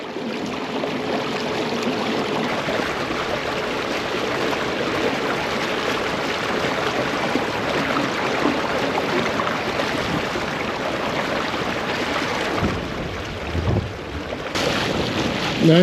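A Nucanoe kayak fitted with a Sidekick drive moves fast across open water, giving a steady rushing wash of water and wind buffeting the microphone that continues unbroken throughout, with no talking.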